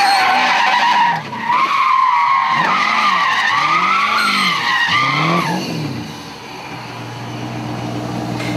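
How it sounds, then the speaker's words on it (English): Holden Monaro V8 drift car sliding through a drift, with loud, wavering tire squeal over a roaring, revving engine that swells and dips before fading into a lower engine drone. "Bring it on, V8 drift power."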